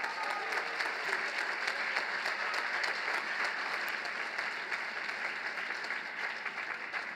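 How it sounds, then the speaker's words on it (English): An audience at a 2021 high school department awards ceremony applauds steadily for the whole stretch, a dense even wash of clapping from many hands with no pauses. "I would like to have a round of applause for both Wenyi Guo and"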